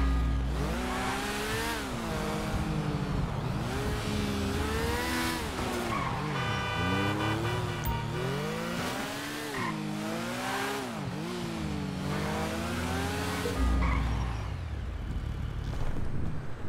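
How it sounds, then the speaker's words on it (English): In GTA 5 Online, a motorbike rides to the casino, its engine loud and close as it revs up and down in repeated surges, with occasional tire squeals. "I'm gonna head over to the casino on my motorbike"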